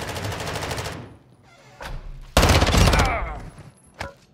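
Automatic gunfire in the Call of Duty DMZ video game, loud rapid bursts separated by short gaps, including one long heavy stream of shots and a final brief burst.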